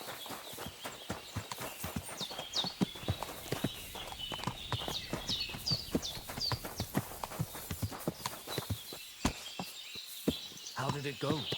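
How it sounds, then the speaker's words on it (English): Horse hooves clip-clop in the medieval game Kingdom Come: Deliverance 2, a steady walking rhythm of sharp close hoof strikes with faint birdsong in the background and voices talking over it. "Where did my horse just go?"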